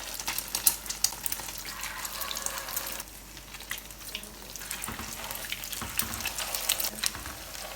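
Egg-dipped vegetable kababs frying in hot oil, with a steady bright crackling sizzle and scattered pops that dip briefly partway through before building again, close and fairly quiet.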